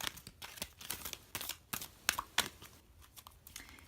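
Tarot cards are shuffled by hand close to the microphone, producing quiet, irregular papery riffles and soft flicks.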